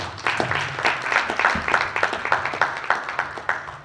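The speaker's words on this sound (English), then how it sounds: "Let's give them a round of applause" A room full of people at a town hall meeting applauds steadily, dense overlapping claps continuing at an even level throughout.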